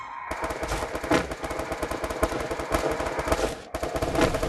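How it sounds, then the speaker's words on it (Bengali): Rapid automatic gunfire in a PUBG or Free Fire battle game, loud, dense bursts of shots rattling almost without pause, briefly cut off near the end before resuming. "গুলি মারিচ্ছে স্যার"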